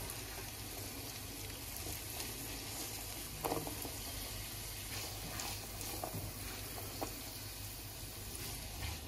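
Onions and peppers fry in olive oil in a pot, a steady dense sizzle close up with occasional sharper crackles and pops throughout.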